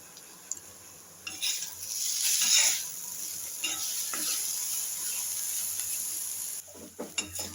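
Plantain podimas sautéing in a pan, a close sizzle swelling and easing as a spatula stirs and scrapes, with clinks of metal on the pan near the end.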